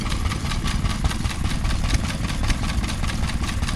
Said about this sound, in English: here we see a stationary engine of some kind being worked on.